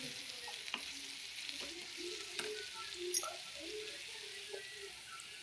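Onions with turmeric and masala powder fry in a pan, giving a steady soft sizzle with scraping stirs and light clicks of the spoon throughout.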